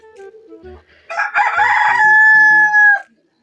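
A rooster crows once in the afternoon: a loud, close, drawn-out cock-a-doodle-doo lasting about two seconds, preceded by a few soft clucks and small sounds and followed by quiet.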